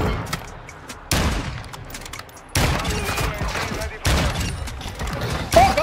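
Gunfire from a multiplayer shooter video game, with loud close bursts of rapid automatic fire in several separate volleys and a boom-like crack, while players talk.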